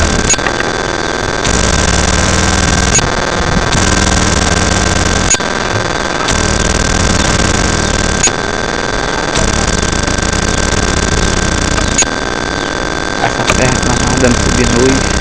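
A vehicle engine labors up a steep mountain road, a loud, steady drone whose upper hiss cuts in and out in repeated stretches, with faint voices mixed in.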